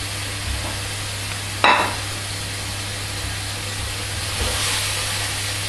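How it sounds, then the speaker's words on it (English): Lamb sizzles steadily in a hot frying pan, a constant crackling hiss with one sharp clatter early on and no talking. "While it's frying away there"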